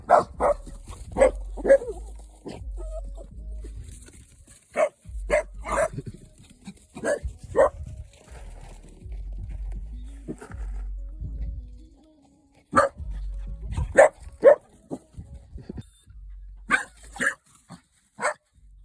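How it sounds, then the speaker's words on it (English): A neighbor's dog barks outdoors in repeated short bursts, some clustered and some spaced apart, fairly close and clear against a quiet rural background, with occasional softer whimpering sounds between barks. "Say hello to my neighbor's dog."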